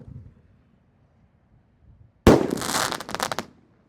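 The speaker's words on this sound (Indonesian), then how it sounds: "Bima Sakti Roman Candle, ada panahnya ke atas." Bima Sakti 5-inch Roman Candle firing: a sharp loud launch burst followed by just over a second of dense crackling and hissing sparks, ending abruptly, with quiet ambient noise beforehand.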